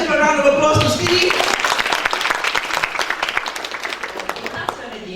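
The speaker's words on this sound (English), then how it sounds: "Let's give a round of applause to Steve." Conference audience at a 2018 business summit master class in Batam bursts into applause, a dense, close round of many hands clapping that swells and then thins out gradually over several seconds, with voices briefly audible at the start.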